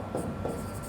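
Chalk or marker strokes on a classroom board during a Sanskrit lesson, a short burst of scratchy writing heard close with no talk over it.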